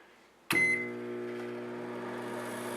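A microwave oven cooking a bowl of Kraft Dinner starts with a sharp click, then settles into a steady, fairly loud hum with a high electrical whine that carries on unbroken. No one speaks.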